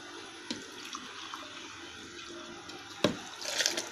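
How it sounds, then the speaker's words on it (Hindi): Water pours into a bowl while a karhi batter is being made, a soft running trickle with a couple of sharp splashes and a brief louder gush near the end. "अब मैं पानी डालूंगी इसमें"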